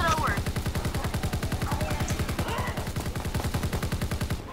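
Rapid automatic gunfire from Call of Duty WWII Zombies, a dense unbroken stream of evenly spaced shots lasting several seconds, loud and close, with faint voices and game sounds underneath.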